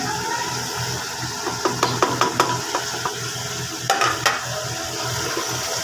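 Spices and a piece of black cardamom frying in a pot for potato curry, with a spoon scraping and stirring in short bursts over a low, steady sizzle.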